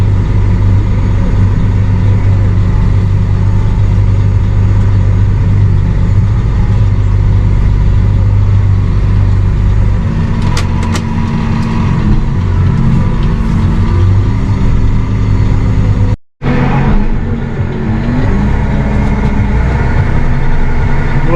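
A newly delivered, very large tractor rumbles steadily as it is driven, a loud, constant low engine drone throughout with a brief dropout near the end.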